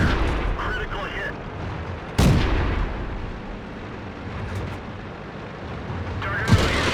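Tank cannon firing in the video game World of Tanks, one sharp booming shot mid-clip and another near the end, set against a low continuous engine rumble with game voice chatter.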